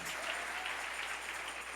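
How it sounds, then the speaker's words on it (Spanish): A church congregation applauds, an even, continuous patter of many hands held at a moderate, somewhat distant level for a couple of seconds. "Denle ese aplauso al Rey."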